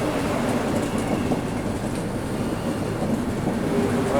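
A Vande Bharat Express rolls past close by, its wheels and carriages giving a steady, loud rumble with faint clattering that holds throughout, with no voices.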